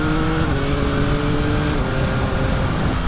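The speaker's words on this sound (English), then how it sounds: "how good this 890cc 3-cylinder" A 2023 Yamaha XSR900 with its 890cc three-cylinder CP3 engine runs loud and close, giving a steady, dense, smooth engine drone with a constant pitch and no speech.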